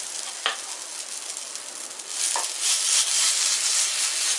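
Rajgira and raw potato paratha fries in an oil-greased pan with a steady, close hiss of sizzling oil that swells louder in the second half, punctuated by a couple of brief clicks.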